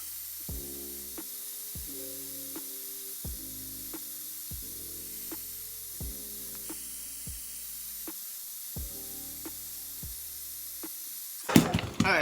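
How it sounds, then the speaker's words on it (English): A short, hissing burst of hair spray being misted onto hair arrives right at the end, following a stretch of steady, repeating tonal notes. "we're gonna spray that down and make sure it is melted"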